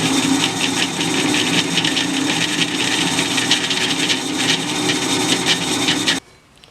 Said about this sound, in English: I'm drilling a 1/4 inch hole in it